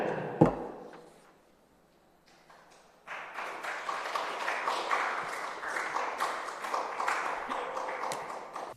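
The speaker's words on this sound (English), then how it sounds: "A cheering session hall." Cheering and clapping fill a legislative session hall after a bill passes, starting with a sharp tap and brief quiet, then a sustained, dense wave of applause and cheers from a crowd nearby.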